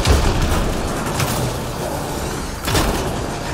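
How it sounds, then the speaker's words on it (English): Gunfire during a combat scene in the video game Mass Effect Andromeda: a dense, loud wash of blasts and booms, with heavier bursts at the start, in the middle and near the end. "Do you not hear all the gunfire?"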